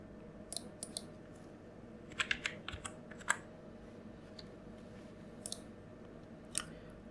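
Someone types numbers on a computer keyboard during CAD work: a few faint, scattered key clicks, with one short burst of taps in the middle, over a quiet room hiss.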